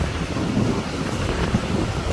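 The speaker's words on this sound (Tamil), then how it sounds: "பாருங்கள் எப்படி அலை வருது" Strong wind buffets the microphone with a continuous low roar on the sea shore at Point Pedro, rough sea waves rumbling beneath it.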